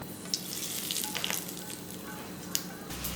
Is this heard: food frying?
yes